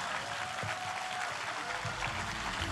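A hall audience claps steadily and loudly after a speech at the 131st Donghak Peasant Revolution commemoration ceremony, a continuous wash of applause with no break.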